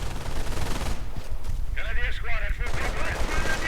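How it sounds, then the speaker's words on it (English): MG42 machine gun fire in a WWII strategy video game rattles in short bursts amid battlefield noise, with a few brief whistling and ricochet-like tones in the middle. "MG42 providing quick covering fire for the Panzerabwehrkanone as it makes a hasty retreat"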